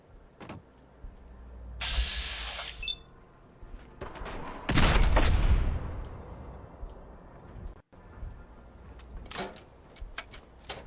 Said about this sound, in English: Gunners don't mind random explosions.